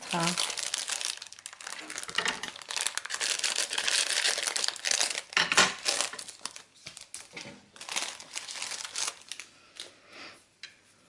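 Double-sided tape, 8 mm wide, is unrolled and handled for card making, with crinkly tearing and peeling rustles in close, irregular bursts, while a voice talks through much of it.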